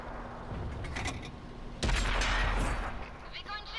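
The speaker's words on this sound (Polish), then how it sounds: "Wszystkie strzały, wszystkie strzały cztery w ciemno." Gunfire on a hunt, long-range shooting in the dark. There is one sharp loud report partway through over a rough outdoor background with some faint shorter cracks. It sounds close to the microphone.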